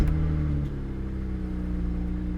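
A car engine idling steadily after a brief revving start, low and even in tone, close by.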